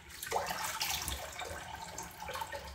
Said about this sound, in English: Maybe if I turn the hot tap on, it'd be better.